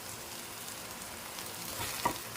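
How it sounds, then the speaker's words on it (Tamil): Tamarind and lentils sautéing in a pan for bottle gourd thogayal, a soft, low steady sizzle with a faint stir or scrape near the end. "இந்த புளியை கொஞ்சம் பிச்சு பிச்சு போட்டுக்கிட்டே வதக்கின்றோம்"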